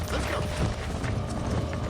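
Hooves of a fast, unruly horse in Red Dead Redemption, a quick rhythmic clatter mixed with creaks and tack rattles at moderate loudness.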